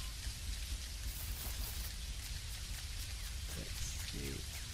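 Rain pours down in the video game Dinkum, a steady dense hiss of falling drops that fills the whole stretch with no one talking.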